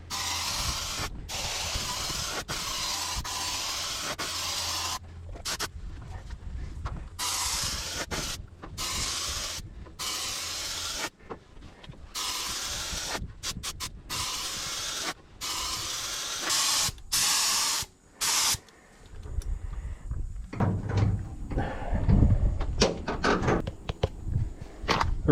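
A paint sprayer lays a second coat over a large excavator, loud hissing bursts that start and stop in quick irregular spurts, broken by short silences, with clanking handling noises near the end.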